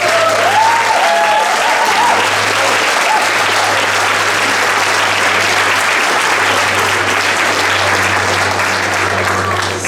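A large gathering at a 50th anniversary celebration breaks into long, even applause that stays loud and dense for about ten seconds, with a brief voice early and a low hum underneath.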